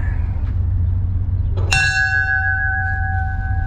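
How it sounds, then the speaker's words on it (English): A museum train bell at the Barstow train museum is struck once, giving a sharp metallic clang that rings on as a steady, sustained tone over low outdoor background noise. "there's the bell"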